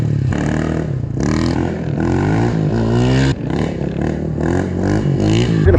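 Motorcycle revving hard during wheelie practice in a parking lot, the engine rising and falling through repeated throttle bursts, loud and close.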